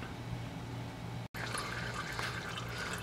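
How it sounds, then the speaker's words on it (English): Engine oil from a 1987 Porsche 944S drains into a drain pan, a steady quiet liquid trickle and patter with a faint low hum, briefly cut by a short gap of silence. "we've drained about the majority of the oil out at this point. There's just a little trickle left."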